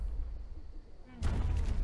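A gunshot cracks out in ARK Survival Ascended, one loud, broad blast after about a second of quieter low rumble, its noisy tail filling the rest of the moment.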